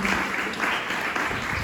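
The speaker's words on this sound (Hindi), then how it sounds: "अच्छी ताली हो जाए प्रभु को धन्यवाद देते हुए।" A church congregation applauds during a fasting prayer service, a dense, steady patter of many hands clapping that fills the room evenly and continues throughout without talk over it.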